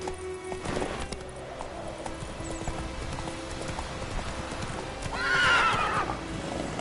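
Roach, a horse in The Witcher 3, gallops with steady clip-clopping hooves through a game soundscape, then lets out a loud, rising neigh near the end.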